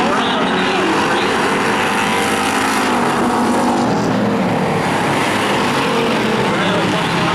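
Street stock race cars roar around the oval at Wiscasset Speedway in a heat race, a loud continuous engine drone with cars sweeping past under a commentator's voice.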